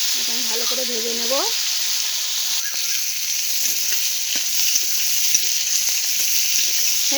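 Pointed gourd (potol) coated in salt and turmeric fries in a pan with a steady, loud hissing sizzle, a brief voice heard early on over occasional soft crackles.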